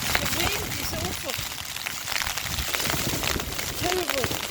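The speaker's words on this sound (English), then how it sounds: "Icy cold rain every week, lovely." Icy cold rain falls outdoors in a steady, dense hiss alongside gusty wind, with voices audible beneath the wash.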